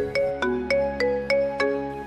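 A mobile phone ringtone for an incoming call chirps in a steady repeating pattern, six bright tonal bursts evenly spaced over a sustained musical drone, loud and close with no talking.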